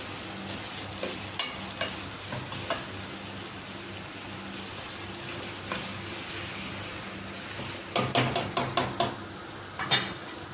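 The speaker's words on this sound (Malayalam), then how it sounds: "ഒരു 2 കറുവാപ്പട്ടയുടെ കഷ്ണം, കറിവേപ്പില ഇതെല്ലാം കൂടെ ഇട്ട് ഒന്ന് നല്ലവണ്ണം വഴറ്റി എടുക്കാം." Pieces of cinnamon stick, curry leaves, ginger and green chillies sauté in hot oil in a pan, with a continuous sizzle broken by sharp spoon taps and scrapes against the pan, including a quick cluster of knocks near the end, close and with no voice.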